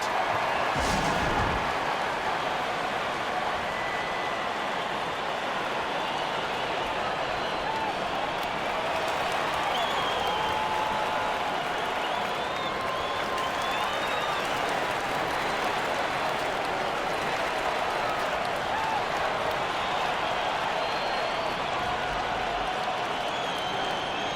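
A basketball arena crowd in NCAA 2K19 roars and applauds in a steady, loud wash of cheering that continues without pause, while commentators speak faintly underneath.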